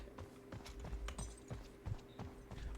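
Horse hooves in the video game Knightfall, a steady run of clip-clop footfalls repeating about every half second, close and fairly quiet over a low background hum, with no one talking.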